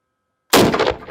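A single sharp, loud gunshot from a firing test on ceramic ballistic armor bursts out of silence and rings briefly before fading.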